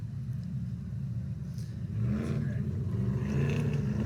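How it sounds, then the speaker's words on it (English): Vintage mid-1980s sprint cars roll into turn one of a racetrack at Circle City, their engines rumbling steadily and then swelling louder as they close in. "A couple beautiful vintage mid-1980s sprint cars rolling into turn number one."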